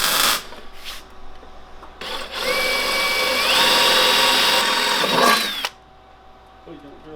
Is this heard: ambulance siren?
no